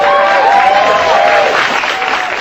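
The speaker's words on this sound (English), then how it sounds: "Norm MacDonald got more applause than America." Studio audience applause on a comedy talk show, a loud, dense wash of clapping with some cheering, steady throughout with no speech over it.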